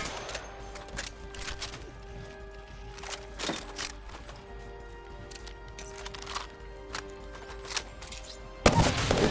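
A Prowler weapon with laser sight fires in a video game, with scattered sharp shots over a steady tonal backdrop and a louder burst of noise at the end.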